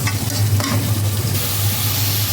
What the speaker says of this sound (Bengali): হালকা মরিচের গুঁড়া হলুদের গুঁড়া আর ধনিয়া গুঁড়া দিয়ে ভালোভাবে কুটকিটাকে কষিয়ে